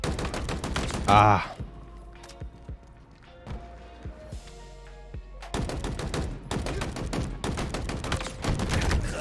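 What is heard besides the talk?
gunfire in video game Halo Infinite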